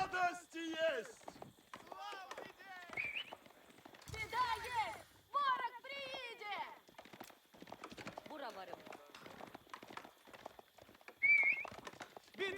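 Horsemen and scouts gallop in the Age of Empires 4 real-time strategy game, a steady drum of hoofbeats running beneath continuous talk.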